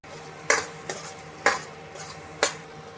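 A masala spice paste is sautéed in a pan, with a low steady sizzle under four or five sharp scraping strokes of a spoon against the pan at an uneven rhythm, close and alone.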